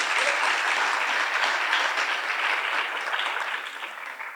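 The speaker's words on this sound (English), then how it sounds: "Go ahead, you can clap." Sustained audience clapping at a senior athletic awards night, a dense, even wash of applause from a large crowd, holding steady and easing slightly near the end.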